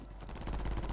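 Rapid gunfire in the online shooter game Fortunes Keep, a fast run of close, loud shots packed tightly together in a single brief burst, with no talking over it.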